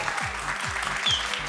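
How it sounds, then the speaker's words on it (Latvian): Audience applause at a stage show in Latvia, a steady wash of clapping from a crowd, moderately loud and continuous, with no talking over it. "Super, aplausi."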